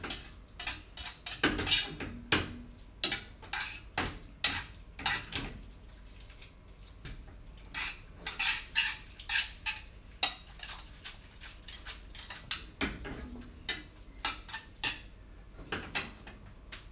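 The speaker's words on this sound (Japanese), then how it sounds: "しっかりソースと絡めていきましょう。" Pasta puttanesca is tossed with sauce in a pan at home, giving irregular clinks and scrapes of utensil against metal with wet stirring sounds, close by, in bursts separated by brief pauses.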